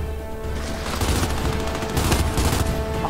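Rapid gunfire rattles through a firefight in the video game Gears 5. Dense overlapping automatic bursts and shots are sustained and loud, with no talk over them.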